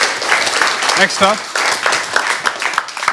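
A hackathon audience applauds after a team's pitch, a broad wash of clapping filling the room while a presenter's voice speaks over it.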